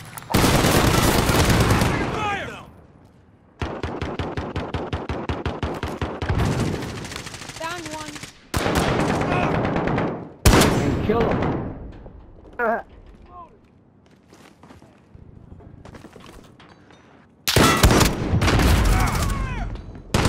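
Video game firefight: close, loud bursts of automatic gunfire and rapid single shots come in several long volleys broken by brief quiet gaps. Excited players talk over the shooting.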